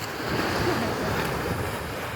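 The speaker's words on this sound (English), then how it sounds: "look at this nice sea, nice wave." Sea waves break on a shore in Westmoreland, Jamaica, a loud, continuous rushing wash with wind buffeting the microphone and no voices.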